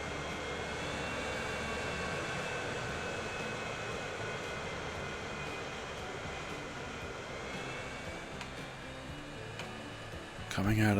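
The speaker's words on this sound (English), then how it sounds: "cargo plane." Cargo plane flying in Transport Fever 2, a steady droning engine roar that holds evenly for several seconds before a brief louder burst at the end, with talking faintly present.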